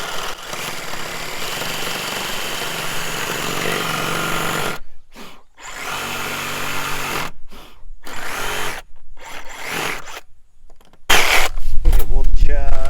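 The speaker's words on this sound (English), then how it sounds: "I'm gonna cut them with a Sawzall because it's just gonna be faster than a jigsaw." Sawzall reciprocating saw cutting wood for a DIY pole shed, a loud buzzing cut broken by several short pauses, ending in an even louder stretch; a voice talks between cuts.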